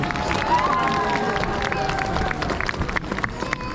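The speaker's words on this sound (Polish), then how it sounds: "Wielkie brawa dla nich!" An audience at a Three Kings Day celebration applauds loudly and steadily, with dense clapping and some cheering from a crowd, while a voice talks over it.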